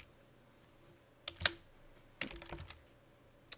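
A few separate keystrokes on a computer keyboard while a command is entered in Rhino 3D software, with short bursts of clicks spread over a few seconds against quiet room tone.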